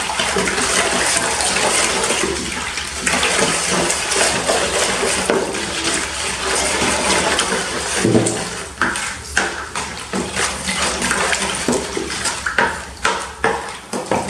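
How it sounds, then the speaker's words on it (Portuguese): Warm milk and water are poured into a bowl over yeast and sugar for homemade bread, a loud, steady splashing pour that runs continuously with a few clinks of a container. "Então vamos colocar o leite com a água morninho, né?"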